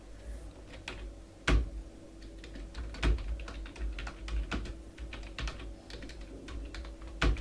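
Someone types steadily on a computer keyboard, sparse to moderately quick key clicks with a few sharper, louder strokes, close up in a quiet room over a faint hum.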